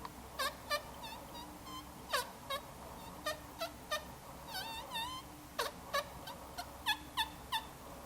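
A voice imitates a turkey hen with a series of short, squeaky yelps and clucks in uneven bursts, fairly close, with no other talk.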